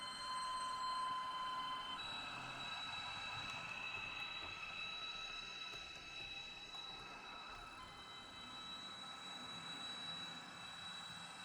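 A Eurodual model locomotive's sound module keeps humming with a steady diesel-like drone and faint high whine after the engine stops, quiet and continuous without talk.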